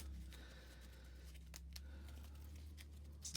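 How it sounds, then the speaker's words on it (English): Marvel Champions playing cards are shuffled by hand, giving a few faint, quick papery flicks and rustles over a low background hum, with no talking. "shuffling our deck"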